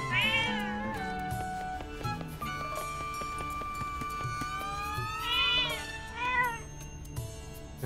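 A cat meows in The Legend of Zelda: Echoes of Wisdom, with several rising, whiny calls near the start and again toward the end, set against steady game music tones.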